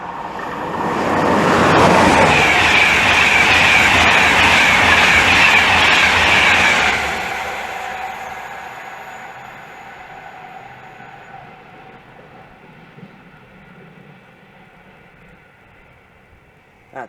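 London North Eastern Railway passenger service to Leeds speeding through Hitchin station on the East Coast Main Line, a loud close rush of wheels and carriages for about seven seconds, then fading into a lingering distant rumble and rail hum.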